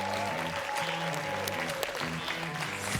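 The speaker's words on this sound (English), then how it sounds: "A round of applause for our guest dancers" A crowd at a Berlin creative event applauds guest dancers, dense steady clapping over thumping dance music.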